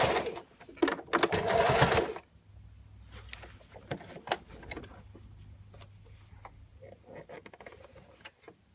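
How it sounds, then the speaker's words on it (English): A sewing machine rattles loudly for about two seconds as it back-stitches along a shirt cuff, then gives way to faint clicks and handling noises. "And then you sew the back stitches"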